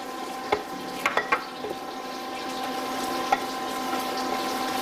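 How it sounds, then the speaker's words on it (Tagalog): Mushrooms go into a hot pan for a burger steak mushroom sauce, giving a steady soft sizzle with a few sharp clicks and scrapes from stirring. "Now we are gonna add our mushrooms."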